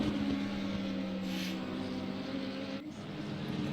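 Audi race car engine in a racing video game at Barcelona, a steady droning hum held flat at high speed on the straight, continuous with a slight dip near the end.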